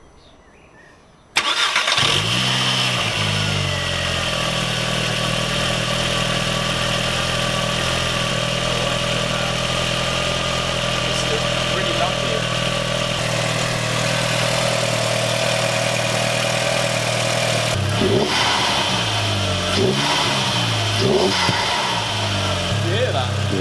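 A turbocharged car fitted with a big turbo inlet pipe starts up and idles roughly, then blips its revs near the end with sharp exhaust pops, close and loud, while people talk over it.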